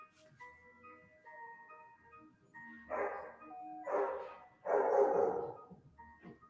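A small dog yaps in three bursts of sharp barking, close and fairly loud, over steady electronic tones and a low background hum.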